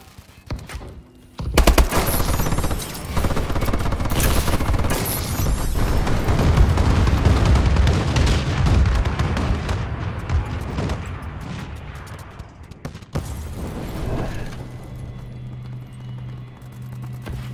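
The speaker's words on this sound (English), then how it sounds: "Friendly bombing run incoming." Dense rolling barrage of explosions and gunfire from a bombing run in the shooter game Call of Duty: Advanced Warfare, loud and sustained for most of the stretch before tapering off.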